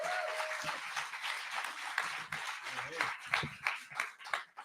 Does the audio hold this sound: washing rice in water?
no